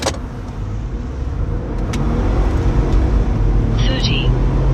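A 2024 Ford F-150 pickup with a 10-speed transmission accelerates hard toward 60 mph; a loud, steady engine and road roar builds from inside the cab, with a voice speaking over it.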